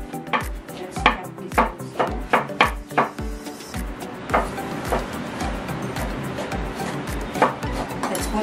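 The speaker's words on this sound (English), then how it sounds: "Then let's cut the onion." A knife chops an onion into pieces on a board, a quick run of loud, close, evenly spaced thuds, then softer irregular cuts and a few clinks.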